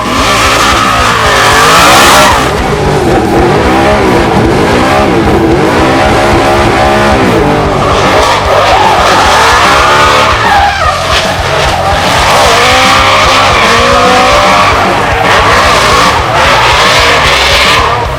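Ford Mustang RTR drift car blasting up Rod Millen's driveway at the Leadfoot Festival, a very loud engine roaring and revving through gear changes with tires squealing and skidding throughout, close by.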